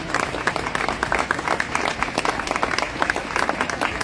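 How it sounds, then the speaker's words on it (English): An outdoor Free Palestine rally crowd gives a speaker a big round of applause, a dense, fairly loud patter of many hands clapping steadily throughout. "I would like for each and every one here to give him a big round of applause"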